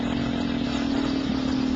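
A tired, worn-out engine drones steadily with a constant low hum and rough clatter as a vehicle flees in a chase, loud and continuous without talk.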